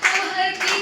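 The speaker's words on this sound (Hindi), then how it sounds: "एक बार जोरदार ताली" A short burst of audience clapping at a Hindi kavi sammelan poetry gathering, brief and moderately loud, with a rhythmic patter of hands over a faint background tone.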